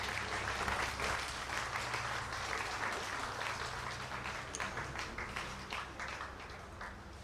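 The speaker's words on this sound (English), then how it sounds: "So a big round of applause for the Guyana Football Federation." Steady audience applause after a round called for the Guyana Football Federation at a football tournament ceremony, dense and continuous at a moderate distance, fading slightly toward the end with no voices over it.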